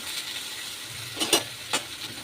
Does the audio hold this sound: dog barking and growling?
no